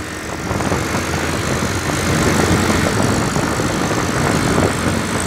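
A motorcycle engine drones while riding on a commute to work. A loud, steady mechanical roar with rushing wind noise rises slightly and then holds constant, with no speech.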